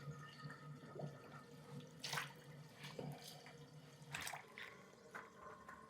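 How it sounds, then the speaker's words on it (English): Water draining from a slanted tub after soaking heavy antique quilts, a soft steady trickle with gurgles and drips, faint and close, with no talking. "There is a slant to the tub, so the water's just going to drain away."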